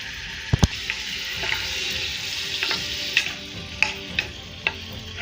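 Mutton sizzles steadily as it roasts in a hot pressure cooker, with occasional sharp clinks and scrapes of a utensil stirring close by.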